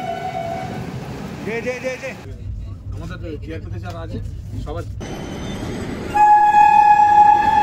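The Jammu Tawi Express rumbles at Dum Dum station, with sustained horn-like tones that swell to a loud, steady blare near the end, while people talk over the railway noise.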